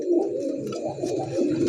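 Domestic pigeons kept for breeding coo up close, a loud, continuous, throaty rolling call with no talk over it.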